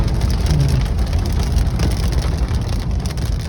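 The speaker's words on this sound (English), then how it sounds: "Now it's hailing." Hail falls in a dense, steady patter and rattle on a hard surface, continuous and close, with a faint low engine rumble underneath.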